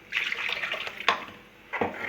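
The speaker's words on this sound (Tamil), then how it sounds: "கொஞ்சம் தண்ணி சேர்க்கணும் நான் அந்த ஜாரில் சேர்த்து சேர்க்குறேன்" Water is poured into a blender jar while making Madurai-style spicy chutney, a short, splashing gush with a brief break before a second pour, close and moderately loud.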